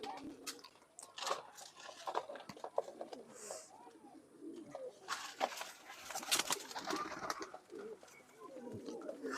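Banaras pigeons, a male paired with a female, coo softly in a quiet loft, giving low burbling notes among frequent small pecking and scratching clicks, faint and close.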